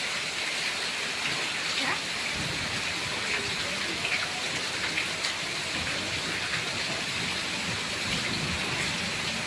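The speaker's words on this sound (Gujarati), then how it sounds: "ફૂલ વરસાદ છે." Heavy rain pours down steadily in an even, dense hiss of drops striking surfaces, with faint scattered patters and no voices standing out.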